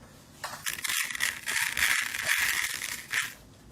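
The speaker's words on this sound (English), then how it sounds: "again we're going to refill it with some rice." Basmati rice pours into a cardboard box snare drum, a close, steady grainy rushing patter with small swells and breaks as the flow shifts.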